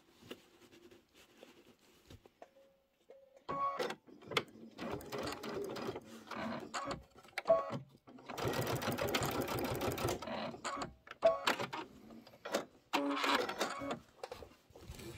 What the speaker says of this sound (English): I'm going to stitch it right over here too.